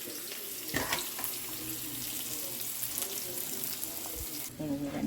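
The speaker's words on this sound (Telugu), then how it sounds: "వీటిని వాటర్లో కడుగుదాం." Puffed rice being washed under a running kitchen tap, a steady close stream of water splashing into a bowl or sink, with brief handling bumps and a change in the flow near the end.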